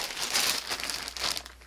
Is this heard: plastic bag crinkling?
yes